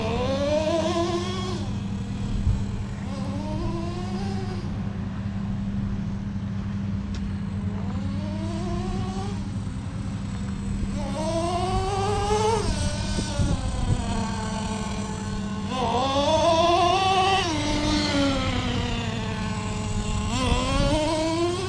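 A Traxxas T-Maxx 3.3 nitro RC truck engine buzzes steadily near the microphone, rising in pitch in repeated half-throttle revs over a constant high idle drone.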